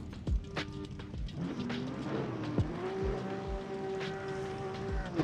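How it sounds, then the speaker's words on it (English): A BMW Z4 engine in a racing video game, a steady mid-level drone with held tones that shift in pitch, plus a few short tire chirps and clunks, fairly quiet and close. "Looks like Kyle is pulling up with the BMW Z4."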